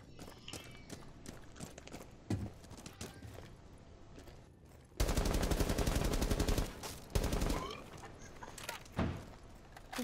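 A Rainbow Six Siege match with scattered single shots and footsteps, followed by a loud sustained burst of rapid automatic fire midway, then more sporadic shots and movement.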